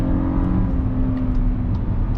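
A 2021 VW Atlas Cross Sport drives at around 40 mph while its engine downshifts, giving a steady, loud interior drone of engine and road noise with no talk.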